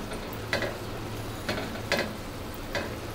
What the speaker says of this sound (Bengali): এভাবে মিষ্টিটা মিডিয়াম আঁচে ভেজে নিলাম